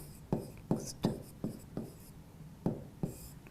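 Pen or marker writing case names on a board, a series of short scratchy strokes tapping and sliding at an uneven rhythm, close and fairly quiet, with no voice over it.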